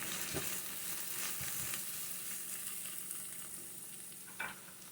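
Food for steamed chicken and rice is stirred in a pot over a steady soft sizzle, with a few quiet scrapes and a brief clunk near the end.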